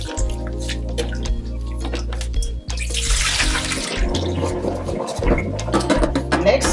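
Sea moss being rinsed under running water, a steady close splash and trickle with drips, swelling louder and brighter midway as the flow hits harder, with no talking.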